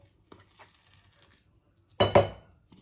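A spoon stirs finely chopped candied orange zest and peel into ground almonds in a bowl for calisson biscuits, giving a couple of faint early clinks and then a brief, loud scraping clatter of utensil against the bowl.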